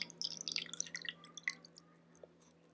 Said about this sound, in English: and pouring slowly and steady, about halfway.